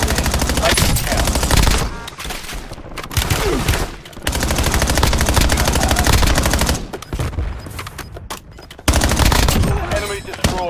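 Dense bursts of automatic gunfire from a Warzone match on Haven's Hollow, loud and close, firing in long rattling strings with brief gaps, mixed with game voice callouts.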